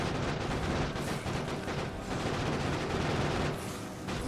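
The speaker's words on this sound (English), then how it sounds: "We scoop it up and we start throwing grenades." Grenades being thrown during a battle in the game Factorio Space Age, a dense, continuous roar of overlapping explosions and rapid gunfire, loud and unbroken.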